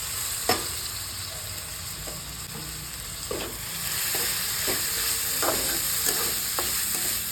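Masala with finely chopped tomato fries in a pan, giving a steady loud sizzle with repeated stirring scrapes and clicks of a spoon throughout.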